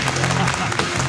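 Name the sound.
audience applause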